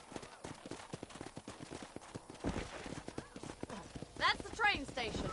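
Horses' hooves clip-clop at a corral in the Western video game Red Dead Redemption, a quick steady run of near hoofbeats with a brief whinny, under a voice talking.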